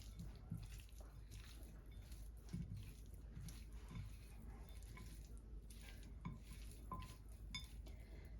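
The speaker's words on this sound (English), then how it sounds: "Then we're just going to gently mix that all in." Chicken wings seasoned with salt are gently tossed in a bowl, giving soft, wet squelching and repeated light clinks of a utensil against the dish, close and steady.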